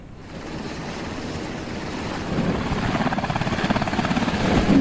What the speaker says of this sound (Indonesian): Rekamannya dirilis CENTCOM menunjukkan pasukan Amerika menaiki helikopter dan lepas landas